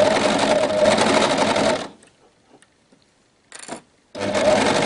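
An overlock sewing machine stitches through three layers of fabric for a baby bodysuit, running in a loud, close, fast whir, stopping for about two seconds with a short burst in between, then starting up again.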